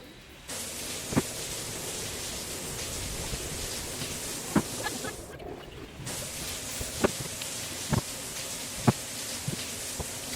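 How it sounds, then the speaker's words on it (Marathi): Monsoon rain outside a balcony falls as a steady, even hiss, with occasional sharper drips and taps standing out. "इकडं आमच्या बाल्कनीकडे तर दाखवते तुम्हाला पाऊस"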